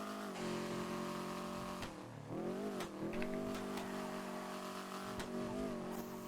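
A racing car in a video game revving and accelerating with a nitro boost, a loud continuous engine whine that rises in pitch, briefly drops, then climbs again across several gear shifts.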